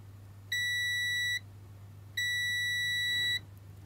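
Two long electronic beeps from a printer chip tester checking an Epson driver chip, each about a second, separated by a short pause, steady and high-pitched over a low constant hum.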